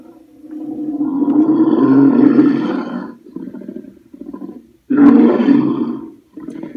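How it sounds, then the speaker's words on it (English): Monster sound file played through a boombox inside a Halloween prop box: a loud, deep guttural roar lasting several seconds, a lower growl, then a second sharp roar, close and alone with no speech. "boombox with a monster sound I downloaded online"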